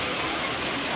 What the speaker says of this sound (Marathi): डायरेक्ट डोंगरावरनं पाणी पडतं